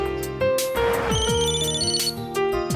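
A mobile phone ringtone plays a bright, electronic melody nearby, its tones repeating steadily with no one talking.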